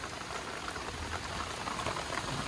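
Light drizzle falling on a farm, a soft, even hiss of fine rain that stays steady and fairly close with no voices or other sounds.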